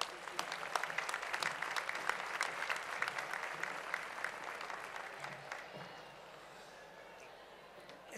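Sustained applause from an audience at a municipal honours and distinctions ceremony in Valdepeñas, greeting honoree Ángela Madrid Medina; steady dense clapping for about six seconds that thins and fades toward the end.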